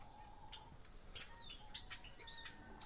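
Rare ornamental birds in a bird reserve chirp and tweet repeatedly at close range, with quick high whistled calls scattered over a steady low background hum.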